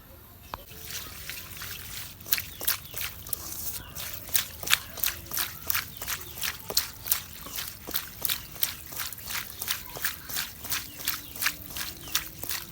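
Small mola fish are washed by hand in water, a long series of rhythmic splashes and drips that grows regular and evenly paced after a quieter start, close by, no voices.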